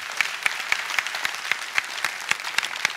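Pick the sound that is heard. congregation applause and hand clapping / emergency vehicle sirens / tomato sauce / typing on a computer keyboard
congregation applause and hand clapping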